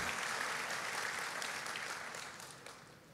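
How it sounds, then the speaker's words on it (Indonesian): Church congregation clapping fills the clip, a dense patter of many hands that gradually tapers off. "Tepuk tangannya kagok saudara."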